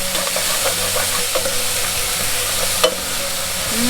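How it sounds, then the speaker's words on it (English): Vegetables sauté in a pot with a steady, close sizzle and hiss, broken by faint clinks and scrapes of a spoon stirring, no voices over the frying. "my vegetables have been sauteing for a little bit"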